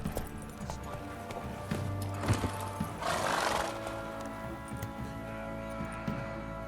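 Horse in The Witcher 3 galloping with hoof clip-clops and a neigh, mixed with game ambience and music, fairly close and moderately loud.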